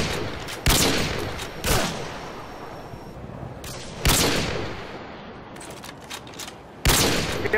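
Video game gunfire erupts in loud, close bursts of rapid fire, each salvo separated by brief quieter gaps, with no voices over it.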